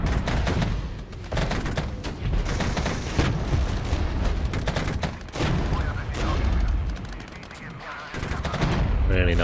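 Tank cannon and machine-gun fire in a Regiments battle against East German T-72s: dense, heavy volleys of booming shots and rattling bursts roll on almost without pause, loud and close.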